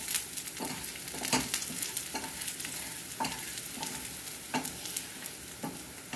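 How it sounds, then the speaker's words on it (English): Onions frying in a pan, a steady soft sizzle with regular stirring scrapes at intervals, close and quiet with no voices. "Now it looks like our onions are just about ready."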